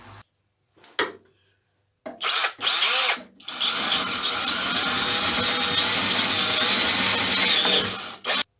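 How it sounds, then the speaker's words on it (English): Power drill boring holes into the steel rear box section of a car: a short burst and a few start-stop whirs, then one long, loud, sustained high-pitched drilling run close by, ending abruptly. "I just drilled 2 holes, one this side and one the other side, and that is at the end of the rear box section"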